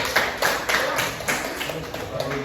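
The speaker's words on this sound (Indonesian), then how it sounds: "Beri aplaus untuk teman-temannya" Students applaud classmates after a group presentation in a classroom, giving a short stretch of steady, close clapping while voices talk over it.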